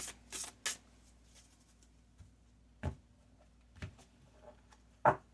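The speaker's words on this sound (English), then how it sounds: "That's my Tantra deck. Shuffled and sorted, if you will." A Tantra card deck is shuffled and sorted by hand, giving a few quiet, separate riffles and soft card taps with pauses between them in a still room.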